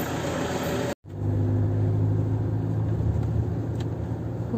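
A car driving at dawn in Rameswaram, a steady close engine rumble and road noise after a brief cut, continuous and fairly loud with no talk.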